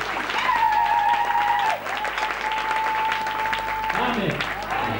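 A church congregation applauds loudly and continuously in worship, with steady clapping throughout, a sustained sung or held tone above it and voices mixed in.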